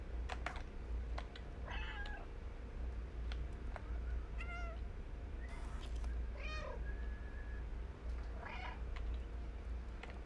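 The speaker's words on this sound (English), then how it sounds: "I'm doing a proper cat here. I'm gonna sit at the door and just meow." A cat meowing at a door in a video game, several separate drawn-out meows spaced over a low steady background hum, fairly quiet, with faint clicking between calls.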